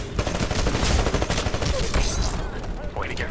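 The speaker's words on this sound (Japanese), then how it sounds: "あ、上で撃ってるな。" Rapid gunfire in the video game Titanfall, a dense fusillade of overlapping shots rattling continuously for about two and a half seconds, then tapering into sparser game effects.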